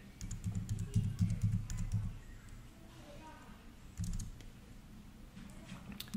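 Keys clatter on a computer keyboard as a title is entered into a real-estate listing record, with two brief bursts of rapid typing separated by a pause and a voice speaking over them.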